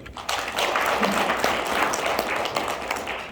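An audience claps together in a round of applause at a 2022 workshop lecture for a Gyeongbuk association of visually impaired people, a dense, even burst of hand claps lasting a few seconds.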